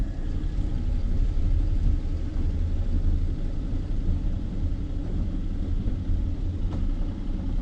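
An old column-shift, three-on-the-tree manual car idles and is given a little gas, producing a steady, low engine rumble heard from inside the cabin, continuous and moderately loud with no speech.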